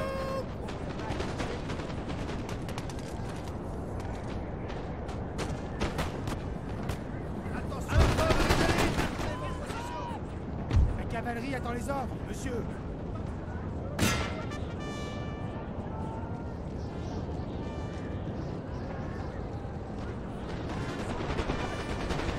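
Massed musket volleys from troops in the Napoleon: Total War battle at Waterloo crackle over a dense, continuous battle din, with a couple of sharper nearby bursts standing out amid the ongoing fire.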